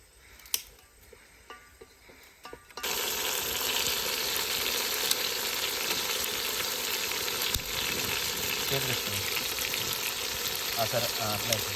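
Chicken curry fries in a pan in a palm oil plantation, a loud steady sizzle that starts abruptly after a few quiet knocks, with stirring scrapes and faint outdoor background underneath.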